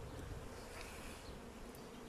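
Bees swarm around an opened beehive during a spring inspection, a dense, steady buzzing drone that fills the whole stretch without pause.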